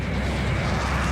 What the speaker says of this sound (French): le Concorde accélère pour atteindre 320 km/h